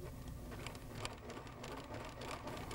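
A Pfaff 2014-series household sewing machine stitching steadily, a continuous busy mechanical whir with faint rapid clatter that holds level throughout with no voices.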